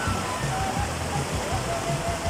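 The Pampán river, in the Virú river basin, flowing with a loud, dense, continuous rushing and splashing close by, with a faint voice underneath.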